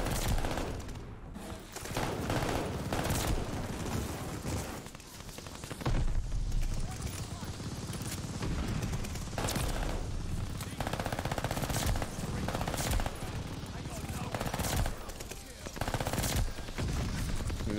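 Armaguerra 43 submachine gun fire in Call of Duty: Vanguard comes in rapid automatic bursts throughout, dense and continuous with brief gaps, layered with other game noise and a voice talking over the action.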